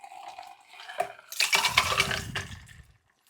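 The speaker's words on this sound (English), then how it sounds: "I'm just going to pour this into a rocks glass" A gin cocktail is poured into a rocks glass, a close, bright splash of liquid over ice lasting about two seconds, with a few clinks before and after.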